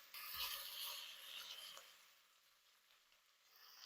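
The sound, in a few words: tomato paste toasting on the bottom of the pan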